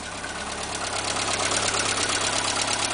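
A 1984 Volkswagen Rabbit engine idles with a steady, close mechanical chatter and a slight knocking rhythm, running alone without talk.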